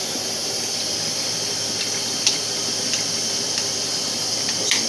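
Oysters frying in hot oil, a steady close hiss and sizzle with a few sharper pops scattered through, no voices over it.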